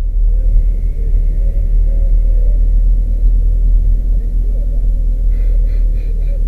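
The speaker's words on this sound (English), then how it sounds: "here I am driving through my local town" A car driving through a town, heard as a loud, steady low rumble of engine and road noise from inside the moving vehicle, with a faint brief beeping near the end.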